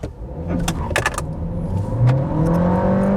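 Volkswagen Golf 8 facelift R-Line with a 1.5 eTSI 150 hp engine, 2025, revving in place with brake and throttle held together: a steady engine drone that climbs in pitch and holds near, with a few clicks at the start.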